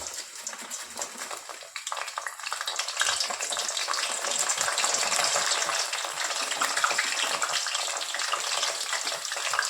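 Sliced raw banana sizzles and fries in hot oil for banana chips, a dense continuous crackling hiss with soft stirring, steady and fairly close throughout.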